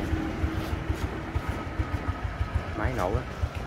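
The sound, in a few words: engine running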